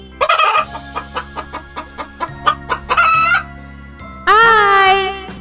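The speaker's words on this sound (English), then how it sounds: "H for hen. Hen means murgi." A hen clucks in a quick series of sharp, evenly spaced clucks, then gives a louder drawn-out squawking call; close and loud, with no talking.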